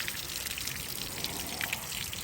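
Water drains from a leaking RV water heater with the top temperature-pressure relief valve opened, giving a faint, steady trickling and splashing hiss with a few scattered drips.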